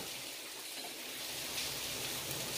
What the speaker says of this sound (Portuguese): vocês estão ouvindo o barulho da chuva? Agora tá bem forte, viu?